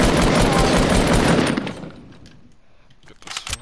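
Rapid automatic gunfire in the Fortnite battle royale game, a loud dense burst of rounds for over a second that tapers off, then a fresh short volley near the end.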